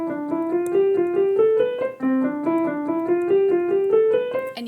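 Fast piano finger exercise in C, a quick five-finger pattern running up and down in even, continuous notes, repeating with a brief break midway, clear and close with no talking.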